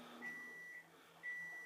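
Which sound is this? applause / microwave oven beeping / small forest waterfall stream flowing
microwave oven beeping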